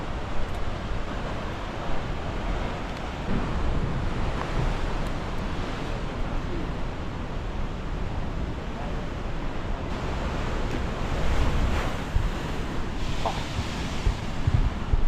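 Steady roar of ocean waves surging around the Pancake Rocks blowhole on New Zealand's West Coast, continuous and loud with wind buffeting the microphone, faint voices underneath.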